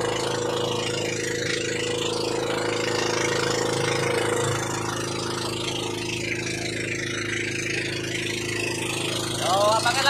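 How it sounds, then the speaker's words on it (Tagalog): A fishing boat engine idles with a low, even throb at sea, steady and close throughout, with faint background noise over it. "Pinatay muna ni Pasbo yung makina at medyo maaga pa daw."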